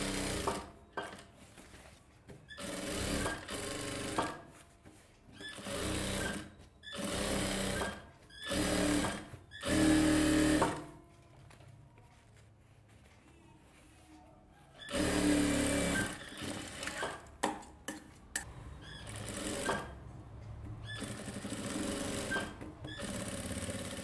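Sewing machine stitching a silk skirt for a one-year-old baby, running in repeated loud bursts of steady mechanical whirring separated by short pauses, close up with no talk.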